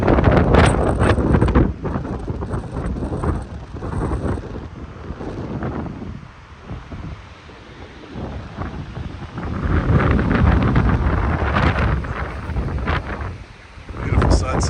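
Strong wind roars at an exposed, extremely windy spot at sunset, buffeting the microphone with heavy, rumbling gusts that ease briefly midway and then return in full force.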